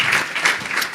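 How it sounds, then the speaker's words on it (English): An audience applauds a panelist at a young lawyers' event, a brief dense patter of many hands clapping together, steady and fairly close, with no talking. "Please, another round of applause for her."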